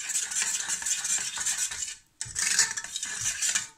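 A spoon scrapes and clinks against a bowl while mixing spiced potato stuffing for aloo paratha, steady close scraping with a brief pause midway.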